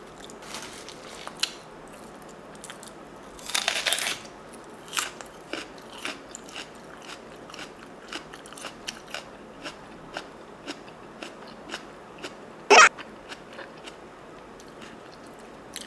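Plain Chinese flower bread is eaten with raw onion, producing close, scattered crunchy bites and soft chewing at an irregular pace, with a few sharper crunches standing out against a quiet background.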